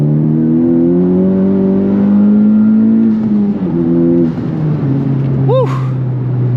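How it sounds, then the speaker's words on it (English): A tuned Honda Civic Type R engine with a PRL cone filter drones and rises in pitch as the throttle is worked up and down, loud and close, with a voice briefly over it. "It's also fun to modulate the throttle, too"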